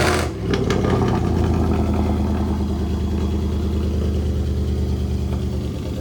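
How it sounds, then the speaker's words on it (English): Cold start of a Mercedes-AMG C63 with the M156 V8, a sharp loud bark as it fires, then a deep, rumbling high idle that stays steady and close with no voices. "this is going to be a cold start on this vehicle"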